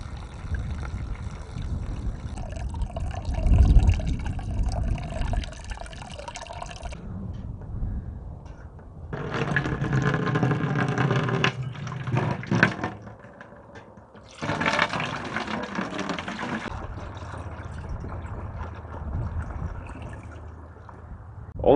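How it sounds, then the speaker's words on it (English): Maple sap poured through a pre-filter into a pan, a rushing watery pour that comes in bursts with brief lulls partway through and near the middle, close and fairly loud, with no talking. "So I'm just running this through another pre-filter just to make sure anything that's in here we get filtered out"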